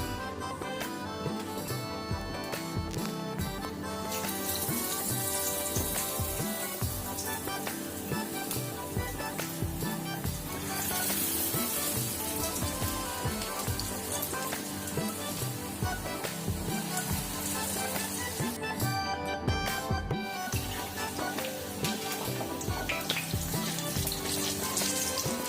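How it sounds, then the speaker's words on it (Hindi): Potato chops (aloo chop) frying in hot oil in an iron wok, a continuous bubbling sizzle with crackling spatters that swell and ease, close by and without talking. "तेल गरम हो जेतै तकर बाद आलू चॉप छानि लेबै"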